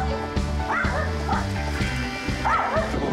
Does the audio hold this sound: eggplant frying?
no